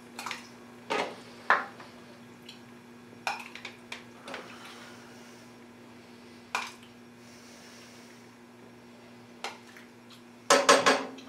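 A ladle clinks against a pot and an oven-safe cup while French onion soup is served, giving sparse metallic taps and scrapes over a faint steady hum, ending in a quick cluster of clatter.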